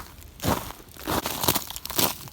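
Footsteps crunch across ice-coated grass after an ice storm, four or five loud, crisp crackling steps in a steady walking rhythm, close to the microphone and without talk.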